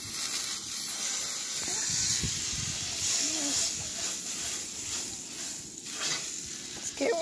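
Butter sizzles in a pan set on a smoking-hot outdoor grill, giving a steady, fairly loud frying hiss that runs the whole time with small crackles and occasional movement.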